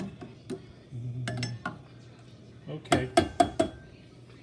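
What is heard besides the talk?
spoon mixing cooked quinoa in a dish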